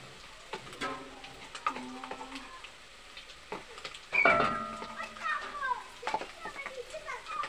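Pounded garlic goes into a pot of cooked onions for a beef stew and sizzles softly, quiet at first and then swelling louder halfway through, with scattered clinks and faint voices in the background.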